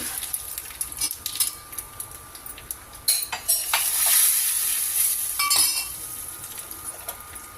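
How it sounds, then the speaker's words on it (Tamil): Cumin, tempering vadagam and red chilli crackle and sizzle in hot oil, with scattered spoon clinks against the pan and a louder burst of frying partway through; no voices. "இந்த எண்ணெய் நல்லா சூடாயிடுச்சு. நான் தாளிக்கிறதுக்கு எடுத்து வச்சுருக்கிறதெல்லாம் ஒவ்வொன்றா ஆட் பண்ணிக்கலாம்."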